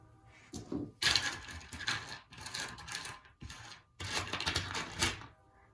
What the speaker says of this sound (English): I have a tray full of crystals here, so you'll occasionally hear me shuffling through them.